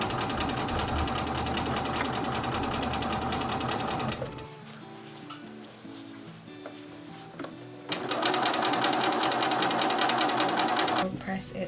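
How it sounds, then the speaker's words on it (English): A sewing machine stitches a retro midi dress from a Butterick B6318 pattern, running in loud, steady whirring bursts before and after a quieter pause, with a voice speaking in places. "Now it's time to sew it."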